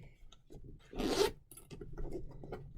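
Single zipper on a soft, buttery bag pulled open in one quick rasping zip, close and fairly quiet, with light rustling handling before and after.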